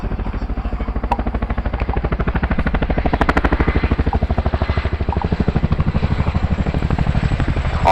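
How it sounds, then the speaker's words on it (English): An RAF Chinook twin-rotor helicopter at a display, its blades thumping in a loud, rapid, steady slap over a constant engine roar, close and continuous throughout. "Get ready to hear the Chinook's iconic Bladeslap."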